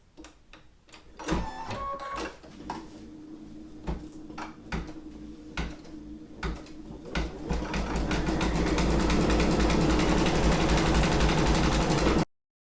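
An embroidery machine stitches a design onto a T-shirt, starting with intermittent clicks and short mechanical bursts, then settling into a loud, steady rhythmic whirring hum before stopping abruptly.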